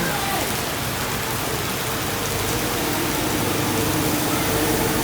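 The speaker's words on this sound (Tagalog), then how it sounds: "Sobrang lakas ng ulan." Heavy rain pours steadily on a street in Macau, a dense, loud wash of drops drumming on surfaces close by without a break.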